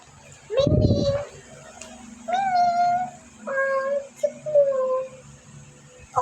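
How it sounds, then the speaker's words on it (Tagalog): A house cat gives several drawn-out, whiny meows at close range, one after another with short pauses between them. "Ayan pusa namin."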